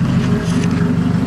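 A 5.3-litre V8 swapped into a Nissan D21 pickup, breathing through a 3-inch straight-pipe exhaust, holds a loud, steady, deep rumbling idle with a throbbing low pulse and no voices over it.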